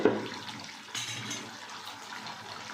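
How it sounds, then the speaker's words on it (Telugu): Water poured into a pan of chicken curry on a stove, a steady splashing gush that swells briefly near the middle and continues alone at moderate loudness. "కొంచెం వాటర్ పోసుకుంటున్నాము."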